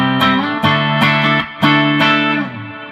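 A clean electric guitar tone through a Zito amp with reverb rings out in a few strummed chords, each attack followed by a sustained, shimmering decay, loud and close with no talking.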